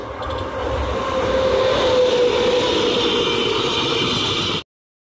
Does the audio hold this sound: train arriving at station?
yes